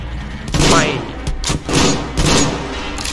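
Gunfire in a video game: several loud, close bursts of shots in quick succession, each with a heavy thump and a bright crack, separated by short gaps.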